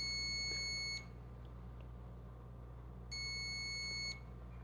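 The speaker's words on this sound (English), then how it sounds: "And then you notice it beeped 2 more times." Tactical Traps fingerprint lock emits two short, steady electronic beeps spaced a few seconds apart, each lasting about a second, fairly loud over a low background hum.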